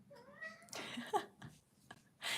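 A pet cat meows up close in a quiet room, a couple of drawn-out rising meows followed by shorter chirpy calls and some soft handling noise, with no talking.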